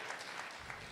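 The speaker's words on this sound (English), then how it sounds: "Another round of applause for Dr." Steady applause from a crowd at an economic symposium, dense and even, with a speaking voice faintly underneath.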